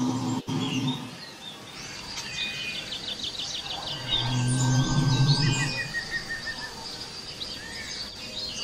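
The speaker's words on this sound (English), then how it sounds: "The beautiful birds whose songs weave the fabric of the forest." Several birds sing and chirp in a dense deep-jungle forest, with repeated trilling phrases and short whistled notes at varying distances over a steady background hum, and no voices.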